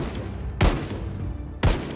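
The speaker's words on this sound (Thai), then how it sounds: "แล้วเสียงปืนคืออะไร" Gunfire in the zombie survival game Project Zomboid, two sharp booming shots about a second apart, loud against a constant rumbling background.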